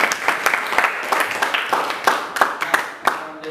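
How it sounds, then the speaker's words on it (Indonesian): A small classroom group claps for a student, giving a brief burst of uneven, close hand claps that taper off, with a voice faintly present. "Beri aplaus sekali lagi."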